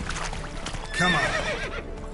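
A horse in The Witcher 3 gives a short, close whinny over soft clip-clop of hooves, all within about two seconds.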